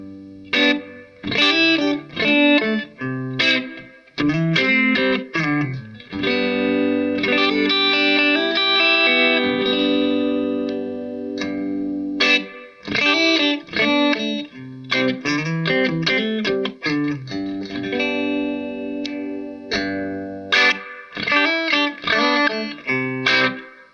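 A Yamaha Revstar electric guitar with its dry switch engaged for a twangy single-coil tone, playing choppy chord stabs and a sustained ringing passage, close and clear with a touch of effects and no voices.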